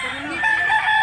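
A prized bullstag fighting rooster at a cockfighting market in Mantalungon, Barili, Cebu gives a single loud crow, close by and clear, lasting about a second with a rising, sustained cry.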